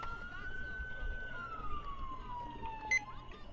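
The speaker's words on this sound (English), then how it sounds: "Let me stop the siren." A police car siren in Grand Theft Auto IV with the LCPDFR mod, on a New York State Police patrol, wails steadily for a few seconds at moderate loudness over low background noise, then cuts out.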